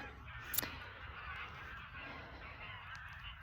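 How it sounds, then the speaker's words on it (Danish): A flock of geese honking faintly in the distance over a low windy rumble, with a brief sharp knock near the start. "Så fik jeg lige skræmt en helt flok gæs op."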